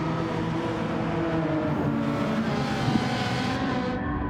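A small, quick Suzuki race car drones steadily in a racing video game, its engine holding a sustained hum with faint tonal whine among other cars, continuous and moderately loud.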